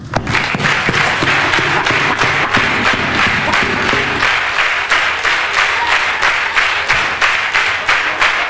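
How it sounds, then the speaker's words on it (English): A comedy club audience claps steadily for several seconds, a dense, continuous patter of many hands with a few louder thumps, no talking over it. "Come on, clap your hands"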